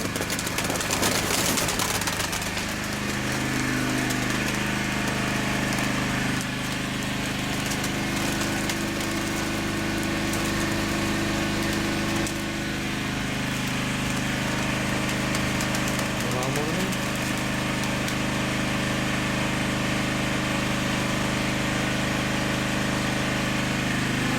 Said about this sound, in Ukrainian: Трошки будемо голосніше говорити, тому що генератор працює